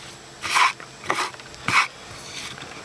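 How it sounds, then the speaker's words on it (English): Three separate scraping strokes of a chisel cutting into wood while carving the hat of a Santa figure, close and fairly clear in a quiet room. "I use a chisel."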